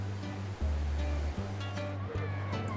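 Sea waves wash onto Wimereux beach in cold water under gusty wind, a steady loud roar of surf with rhythmic low pulses throughout and faint higher sounds over it.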